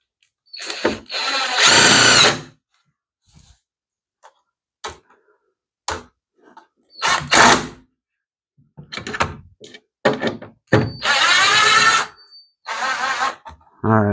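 A power drill bores into a plastic Confer Plastics 7200 Roll Guard above-ground pool ladder in three loud, close whirring bursts, with quiet handling clicks and knocks in the pauses between.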